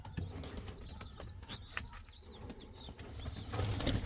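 Indian Fantail pigeons in a loft, with soft cooing and bursts of wing flapping at close range, broken by faint chirps and a louder flurry near the end.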